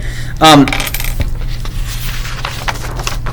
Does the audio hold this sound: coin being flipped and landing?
yes